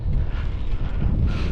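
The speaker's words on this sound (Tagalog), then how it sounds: "Medyo mahangin guys, mahangin." Wind buffeting the microphone while cycling, with a low, rumbling roar that gusts unevenly throughout.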